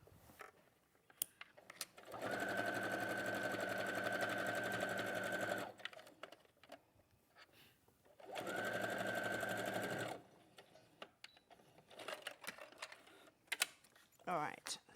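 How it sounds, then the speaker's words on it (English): Sewing machine stitches fabric in two steady runs of rapid mechanical clatter, each several seconds long, with pauses, handling noises and talking in between. "I've just done a back stitch and now I'm stitching"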